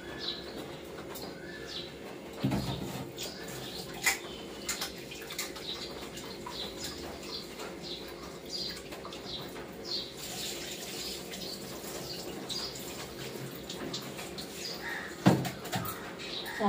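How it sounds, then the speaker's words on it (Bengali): Rice is washed under a running tap, with a steady, soft stream of water and occasional splashes, while birds coo faintly in the background. "তো এখন চালটা ধুয়ে নিই।"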